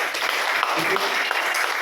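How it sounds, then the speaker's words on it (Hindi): A crowd at a business seminar gives a loud round of applause, a continuous wash of clapping that fills the whole moment, with a faint voice briefly audible beneath. "एक बार जोरदार तालियां"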